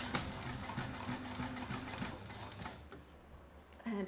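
A sewing machine stitches back and forth on a zip bag in a rapid, steady mechanical run, close and fairly quiet, then slows and stops near the end.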